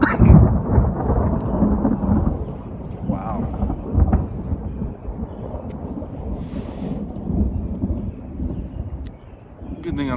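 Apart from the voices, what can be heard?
thunder during a lightning storm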